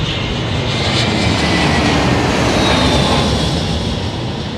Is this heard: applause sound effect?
no